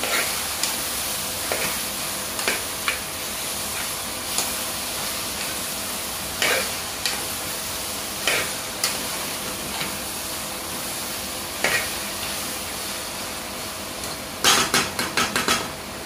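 Spoon scraping and clinking against a pan while soya pulao ingredients with chopped tomato are mixed, sporadic metallic taps over a steady sizzle throughout, with a quick cluster of knocks near the end.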